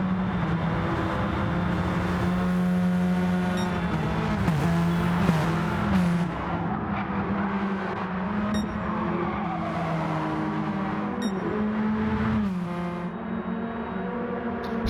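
Radical race cars racing at Tsukuba circuit, engines droning loudly and shifting pitch as they pass, with revving surges and gear changes, no talk.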